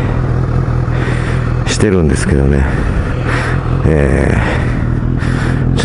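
A Kawasaki Z900RS motorcycle engine idles while warming up, a low steady throb running underneath someone talking nearby, with a couple of brief higher tonal sweeps passing.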